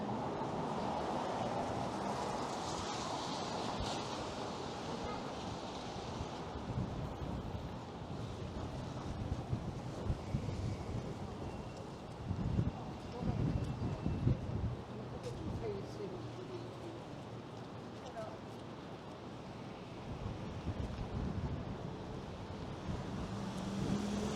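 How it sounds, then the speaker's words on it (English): Gusty evening wind on a Toronto street in April buffets a microphone fitted with a wind muff, with low rumbling bursts and a broad rushing noise that persists throughout. "now it's just windy"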